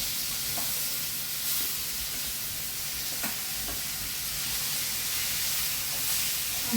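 Eggplant pieces and masala spices frying in a pan for a spicy Maharashtrian eggplant dish, giving a steady close sizzle and hiss with a few soft stirring scrapes and no talking.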